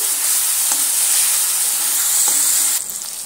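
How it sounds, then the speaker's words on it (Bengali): Cabbage and tomato with turmeric being stirred in a frying pan: a loud, continuous sizzle with a few soft scrapes of the spoon, easing slightly near the end. "এবার আমি একটু এইভাবে নেড়ে চেড়ে নিচ্ছি"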